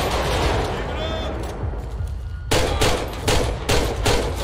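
Gunfire crackles in a SWAT team raid on a gang hideout in modded GTA 5, bursts of rapid shots after a quieter stretch with talk, loud and close.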